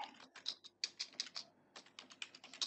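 Code is typed on a computer keyboard in the Processing environment: quick, irregular bursts of crisp key clicks, close up and fairly quiet, with a short pause partway through.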